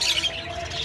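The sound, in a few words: ringneck parakeet calling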